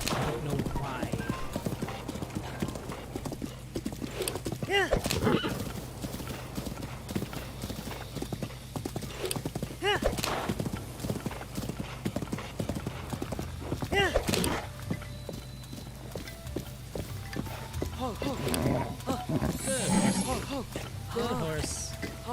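Horse hooves clip-clop steadily through an open-world video game, with occasional neighing and whinnying, set against a constant low background drone while a person talks over the sounds.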